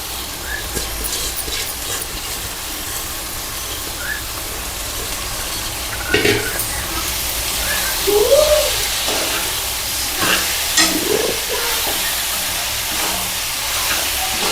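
Cluster beans (guar) sizzle and hiss steadily in a hot pan while cooking into a Tirupati-style peanut-powder curry, with a few louder spits and stirring bursts midway.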